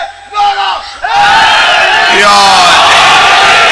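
A large crowd at a religious majlis gathering bellows a slogan in unison, a loud, sustained roar of many voices that swells after a brief lead-in shout and holds to the end.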